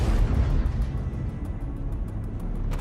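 A heavy explosion as a Ukrainian tank's shot destroys a Russian infantry fighting vehicle: a loud, sustained low rumbling boom that fills the whole moment, with no voices over it.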